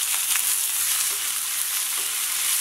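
Onion sizzling steadily in hot oil with fennel seeds and curry leaves, a continuous bright frying crackle with small pops, close and loud with no talk.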